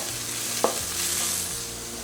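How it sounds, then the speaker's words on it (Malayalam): Spice powders stirred into tomato in a pan while sautéing for egg biryani, giving a soft, steady sizzle with a brief scrape of the spoon near the middle, close and moderately quiet. "ഇതിലേക്ക് നമുക്ക് പൊടികൾ ചേർത്ത് കൊടുക്കാം. നന്നായിട്ട് വഴറ്റിയെടുക്കുക."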